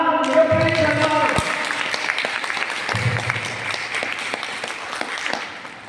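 An audience claps during a Tamil devotional lecture, steady applause with sharp individual claps running for several seconds, partly under a voice.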